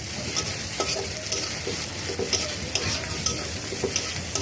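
Onion and spices sizzle steadily in a pan for an egg and mung dal curry, with a continuous bright frying hiss and occasional soft stirring scrapes, close and without talk.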